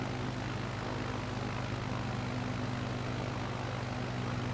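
Light propeller aircraft engine droning steadily in flight, a loud, continuous cabin hum with strong low tones and no pauses throughout.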